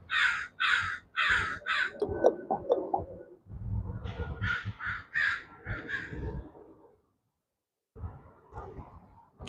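Several crows caw outdoors in bursts of harsh, repeated calls, fairly close and loud, with short pauses between volleys and a brief quiet gap near the end.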